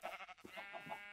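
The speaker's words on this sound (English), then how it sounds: "I think this is all just sheep now." Minecraft sheep bleat in a few quick, wavering cries, close and brief but fairly quiet.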